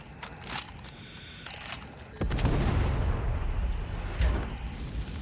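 An explosion in the video game Far Cry 6 bursts with a sudden loud boom and rumbling blast after quieter gunfire-like pops, debris noise trailing off with a second thump.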